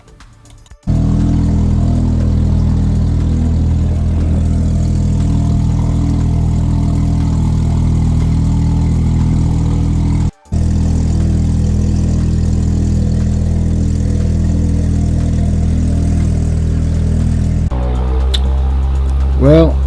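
Steady, loud drone of an Xtreme Scarab jet boat's engine running hard during a speed test, continuous for most of the stretch with a brief cut midway and a voice briefly at the end.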